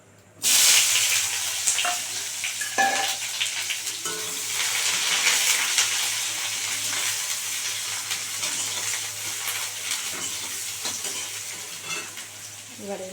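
Chopped onion and garlic sizzle steadily in hot oil with black cumin seeds, a loud continuous frying hiss close by, with occasional stirring scrapes through the pan.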